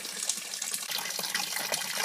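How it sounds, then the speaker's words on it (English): Water pours steadily into a container of homemade wormwood tea insect repellent, a continuous splashing gush from close by, with no talking. "That sound you're hearing is actually me filling up my"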